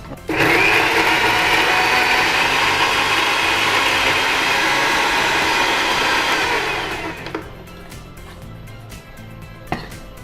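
A kitchen mixer grinder whirs loudly and steadily for about seven seconds, blending a spicy chutney or masala, then cuts off and leaves only faint kitchen clatter and a single small knock.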